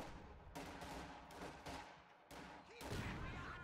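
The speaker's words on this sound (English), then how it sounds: "So many rifle grenades." Rifle grenades bursting amid infantry combat in Company of Heroes 2, with repeated sharp explosive blasts and rattling gunfire in clustered bursts, dense and continuous, with no voices.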